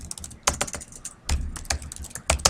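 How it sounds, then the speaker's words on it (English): Computer keyboard typing while entering text in a Microsoft Word mail merge document: close, crisp key clicks in short irregular bursts separated by brief pauses. "Press spacebar and then type membership, comma, you will receive an"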